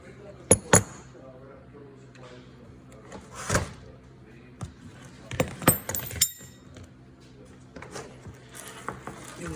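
A 5/8 wrench loosening fittings on an Aerous NX oxygen compressor: sharp metallic clicks, ratcheting taps and tool clatter in irregular bursts, close and fairly quiet.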